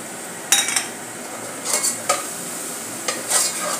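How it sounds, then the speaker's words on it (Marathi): Kashmiri red chili, cumin powder and garam masala sauté in a pan, a soft sizzle under several bursts of spatula scraping and clinking against the metal. "हे मसाले परतून घेऊया।"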